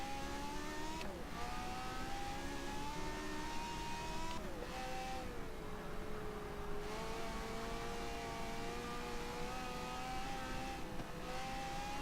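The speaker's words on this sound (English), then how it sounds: "Doesn't matter if it's V8 or not, it still sounds like an F1." A 1964 Ferrari F158 Formula One car in Forza Motorsport 7 revs and holds a high, steady engine whine, pitch dipping briefly at gear changes, loud and continuous with no one talking.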